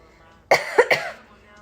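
A short burst of three quick, close coughs from a woman applying makeup, sharp at the start and trailing off into silence.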